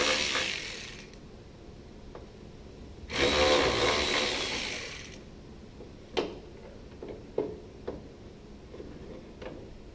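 A ratchet backing out the gas pedal's 3/8 head bolts on a Nova project car, two sustained bursts of rapid clicking followed by a few sparse single clicks and taps, close up with no talk.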